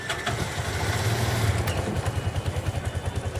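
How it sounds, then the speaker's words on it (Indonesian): A bajaj auto rickshaw's small engine cranks and catches, then settles into a steady, close, loud chugging idle with a regular clattering pulse. "akhirnya sang bajai pun bisa menyala kembali"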